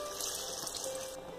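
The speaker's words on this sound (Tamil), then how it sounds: "அதில் வந்து 3 கப் அளவு தண்ணி அளந்து நான் ஊற்ற" Water pouring into a pot of soaked basmati rice for mushroom biryani, a brief close splashing flow at low level.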